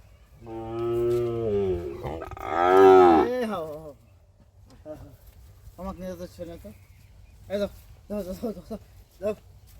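A Sahiwal bull calf on a farm lets out a long, loud, close moo at the start, followed by scattered quieter calls and bursts of speech from people nearby.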